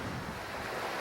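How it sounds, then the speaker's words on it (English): Surf rolling onto a Gulf of Mexico beach with a steady breeze, a broad, even wash of waves and wind noise at moderate level, no voices. "listen to the surf and enjoy the breeze"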